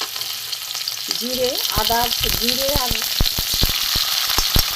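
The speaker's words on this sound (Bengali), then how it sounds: "প্রথমে আমি দেখুন কড়াই তেল দিয়েছি, দিয়ে আমি অল্প একটু টমেটো কুচি দিয়ে দিলাম" Chopped tomato sizzles and fries in hot oil in a wok, with a steady close crackle under brief stirring clacks while someone speaks.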